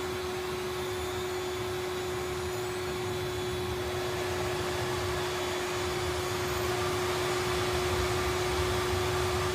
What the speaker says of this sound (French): On entend là on entend l'aspirateur, fallait couper le son là.